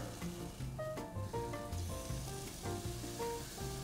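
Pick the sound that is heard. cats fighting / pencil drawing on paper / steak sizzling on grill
steak sizzling on grill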